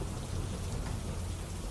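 Torrential monsoon rain pours down in Amreli, Gujarat, a dense, even hiss of heavy rainfall with no voices over it.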